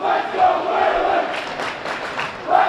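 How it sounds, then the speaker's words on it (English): Wayland Warriors fans chant at a high school hockey playoff game, a rhythmic crowd roar that rises and falls in a few swelling pulses and fills the arena. "The Let's Go Wayland chant now coming from the Wayland Warriors crowd."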